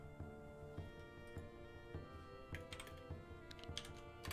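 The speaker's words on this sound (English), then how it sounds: "currently I'm typing" Continuous typing on a computer keyboard, a steady patter of clicky keystrokes with occasional louder key hits, close and alone without any talking.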